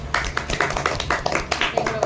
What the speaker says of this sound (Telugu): ఓకే, అందరు క్లాప్స్ కొట్టారు.